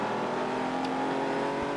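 A BMW race car in a Vintage DTM round at Suzuka blasts past close by, its engine a loud sustained whirring roar that holds steady through the brief pass.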